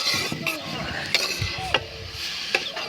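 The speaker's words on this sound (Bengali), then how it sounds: "এভাবে একটু নেড়ে চেড়ে নিচ্ছি।" Carrot halwa being stirred in a pan, with repeated scrapes and soft clatters of a spoon against the metal over a low sizzle, a few sharper knocks standing out.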